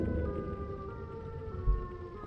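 The Siren Head creature in a horror video game sounds a low, droning, siren-like wail with several steady wavering tones, moderately loud and heard on its own without talk.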